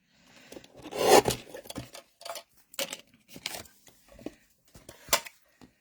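Craft pattern paper is trimmed with a series of short, close rasping cuts and scrapes, irregular and fairly quiet, with brief pauses between strokes.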